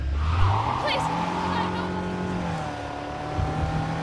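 A car engine hums and revs with brief tire squeals, game-style driving sounds running steadily throughout, from Cyberpunk 2077 on PC.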